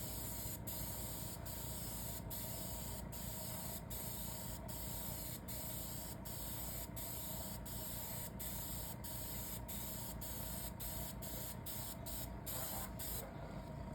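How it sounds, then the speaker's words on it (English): A continuous, steady hiss of a spray gun spraying leather dye onto a seat, unbroken for the whole stretch with faint rhythmic ticking. "Keep the gun moving as you're spraying."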